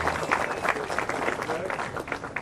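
A crowd applauds at a surf contest awards ceremony, with light scattered clapping and crowd murmur heard at a moderate distance, somewhat faint.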